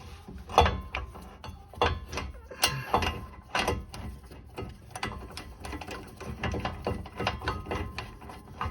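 A ratchet threads a brake caliper bolt on a Honda Fit during a front brake pad job, giving close, irregular bursts of sharp metallic clicks with brief pauses between them.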